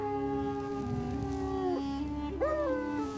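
A dog howls in long, drawn-out mournful tones that bend and slide in pitch, with a second rising howl near the end, close and clear with no voices.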